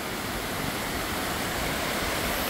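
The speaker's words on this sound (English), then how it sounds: "This is my first time coming to a waterfall in Canada." A waterfall in Canada roars as a steady, dense rush of falling water, loud and unbroken throughout with no voices.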